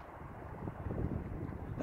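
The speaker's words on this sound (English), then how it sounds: "Oh, it's really windy." Low, rumbling wind buffeting the microphone for a couple of seconds, a steady blustery roar with no other clear sounds.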